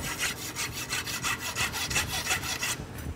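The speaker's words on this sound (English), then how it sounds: "And rasp it up" Rasp filing a horseshoe held in a vise, a fast run of rhythmic scraping strokes, close and clear, then stopping.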